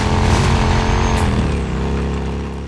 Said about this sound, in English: the growl of Deacon's motorcycle,